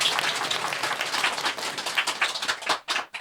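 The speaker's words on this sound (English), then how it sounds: "If you're happy, clap along" A small audience at a Buddhist talk gives a dense round of clapping that holds steady, then thins into a few last claps before stopping.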